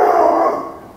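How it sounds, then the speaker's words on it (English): A neighbour's dog lets out one loud, drawn-out bark that trails off like a howl, fading steadily toward the end with no talk over it. "Oops, it's a neighbor's dog."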